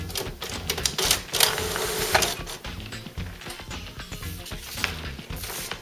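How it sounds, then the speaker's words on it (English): An HP Photosmart C6380 inkjet printer runs a print quality test page, giving a steady run of close mechanical clicks, whirs and ratcheting carriage movements with no talking. "Your printer will now print out a print quality test page and show its capability of printing all of its four or"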